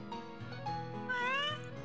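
A cat in a Barbie video game lets out a clear, rising meow over steady game music, close and prominent for under two seconds.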